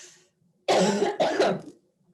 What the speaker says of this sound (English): pardon the coughing and the sneezing